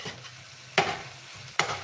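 Ground turkey sizzles in a pan for lettuce wraps, a soft steady frying hiss broken by two sharp scraping stirs of the utensil, no speech.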